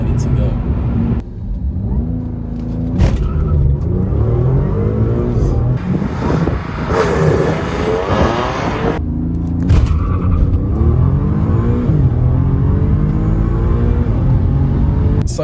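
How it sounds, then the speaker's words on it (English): A tuned car launches hard at maximum launch control with wheelspin, its engine roaring and rumbling loudly and continuously up close while people talk over it. "I launched at the max launch control setting"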